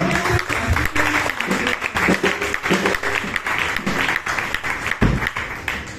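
A church congregation applauds to acclaim God during a Sunday service, with dense, sustained clapping at close range carrying on for several seconds, broken by a few louder bursts and some voices mixed in.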